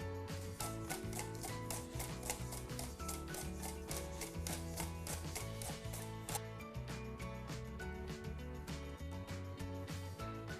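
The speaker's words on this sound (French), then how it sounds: "Une fois que vous avez taillé toutes vos pommes gaufrettes" Potatoes being sliced into waffle fries with a wavy blade, rapid rhythmic cutting strokes heard close, partly under loud music.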